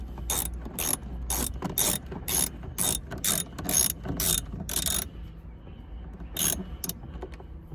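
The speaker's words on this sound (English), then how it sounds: "we'll go ahead and take a 10mm socket and extension. Loosen this 10mm bolt." A ratchet with a 10mm socket and extension loosens a bolt on the dash of a third-generation Toyota Tacoma Access Cab, giving bursts of close, rapid clicking that stop briefly and then return for a short final run.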